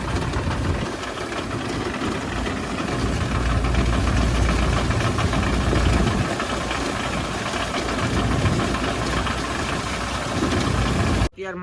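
A tractor engine idles steadily and loudly at close range on a farm during the groundnut harvest, with a continuous low rumble and knocking throb that holds for the whole stretch before cutting off abruptly at the end.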